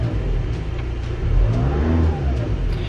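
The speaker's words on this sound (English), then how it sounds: "We'll rev it up again." A car engine revs up and holds high, a steady loud mid-pitched roar with a rising whine partway through, heard alone and close with no talk.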